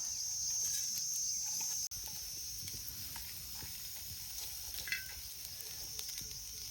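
Masala hits hot oil in a pan for a village-style Vidarbha vamb fish curry, giving a steady, close, loud sizzle with a brief break partway and a few faint clinks, no talk.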